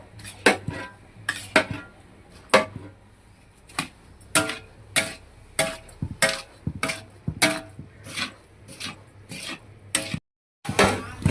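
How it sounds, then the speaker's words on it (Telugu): Fried boondi being mixed into sugar syrup in a large sweet-shop batch of Annamayya laddu, heard as a series of sharp metallic scrapes and knocks of a utensil against the vessel, irregular and close, with a brief silent gap near the end. "శుభ్రంగా బూందీ పాకంలో మునిగే విధంగా కలుపుకోవాలి"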